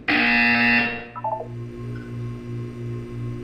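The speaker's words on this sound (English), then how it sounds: "You will hear a buzzer." A loud harsh electronic buzzer in Portal 2 sounds for about a second, followed by a few short beeping tones and a low hum.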